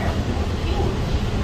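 Inside the Skyway people-mover train at George Bush Intercontinental Airport in Houston, a steady, dense low rumble of rolling motion fills the short moment, loud and close.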